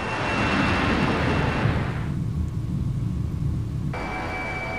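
A Eurofighter EF2000 jet engine in a combat flight game throttles up, with a loud, continuous roar and rumble throughout; the higher hiss briefly drops away, then returns.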